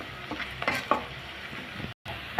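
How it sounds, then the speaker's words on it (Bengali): Onion fries in oil in a pan with a low continuous sizzle, punctuated by occasional spatula scrapes and light metallic taps, then a brief cut to silence before the frying resumes. "দেখুন পেঁয়াজটা আমার ভাজা হয়ে যাচ্ছে।"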